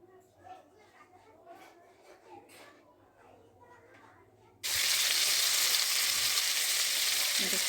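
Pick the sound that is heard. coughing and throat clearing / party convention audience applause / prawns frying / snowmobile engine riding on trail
prawns frying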